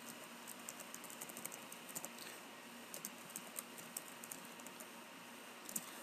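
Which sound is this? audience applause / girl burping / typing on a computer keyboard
typing on a computer keyboard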